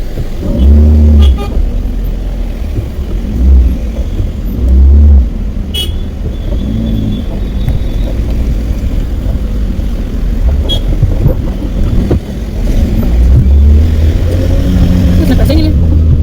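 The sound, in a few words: car driving and accelerating on a road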